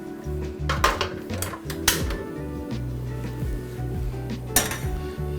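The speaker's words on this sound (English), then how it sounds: "I'm gonna get rid of some of this fat from this pan." A metal pan scrapes and clinks with utensil knocks as excess fat from browned beef short ribs is tipped out, with a low steady hum underneath and a few sharper taps.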